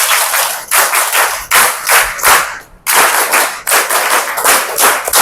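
People clap their hands as a therapeutic exercise in loud, close runs of rapid claps separated by brief pauses, with no talking over them.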